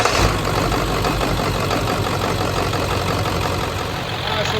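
Ford 7.3 Powerstroke diesel in an OBS 4x4 truck idling just after a restart following an oil change, a steady close, loud clattering rumble with no pauses.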